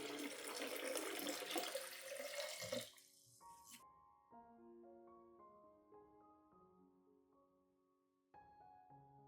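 Water splashes and pours steadily into an onion solution, diluting it with 500 milliliters of clean water, for a few seconds, then stops, leaving quiet clinks and faint tones.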